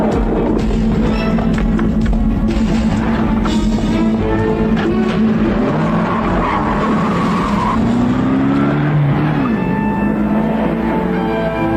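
A car races at speed during a film chase scene, its engine roaring steadily with tire squeals and skidding, loud and continuous with no talk.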